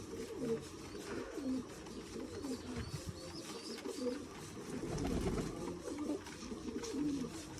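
Pigeons coo softly and repeatedly in low, throaty murmurs, with faint outdoor ambience and no voices.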